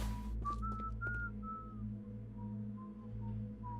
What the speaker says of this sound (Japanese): 口笛を吹くな。